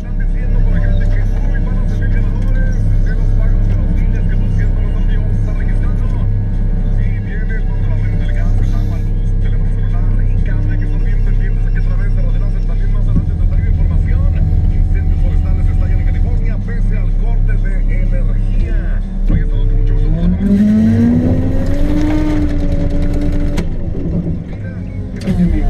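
A tree shaker machine's engine drones loud and steady in an orchard for over twenty seconds, then swells as the throttle is opened near the end.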